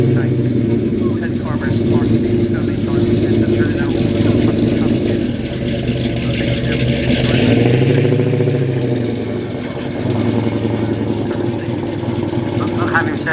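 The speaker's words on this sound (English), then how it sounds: "The blue Riley RM's off now." The engine of a blue Riley RM classic car at the 2023 Malvern classic car show hums steadily as it drives off, a loud continuous drone with people talking over it.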